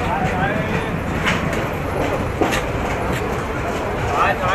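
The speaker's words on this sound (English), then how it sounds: "This is the experience of traveling in train in India." Steady rumble of an Indian train running on rails between Jaipur and Chittorgarh, with faint periodic clicks and rattles throughout, close and continuous.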